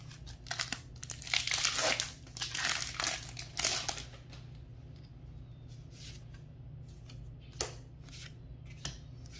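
A Magic: The Gathering Modern Horizons 2 card pack wrapper is torn open and handled close up, bursts of crinkling foil and tearing over a few seconds, then quieter sliding and occasional rustles.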